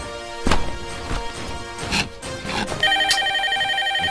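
A telephone rings in an office scene, its electronic bell tones starting partway through and repeating over a few bumps and knocks in the room.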